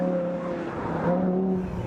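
A 2012 Audi R8 5.2 FSI supercar engine revs hard while driving, a loud, steady high-pitched scream heard up close and alone, with no talk.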